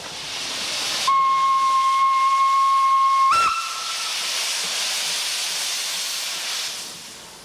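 A steam locomotive sounds a steady whistle for about two seconds over a constant roar of escaping steam, then the whistle cuts off and loud hissing continues alone before easing toward the end.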